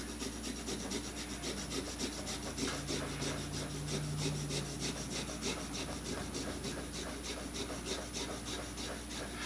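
Fresh ginger root rubbed against a microplane grater, a steady rasping scrape that repeats in quick strokes for the whole stretch, close and moderately loud with no voices.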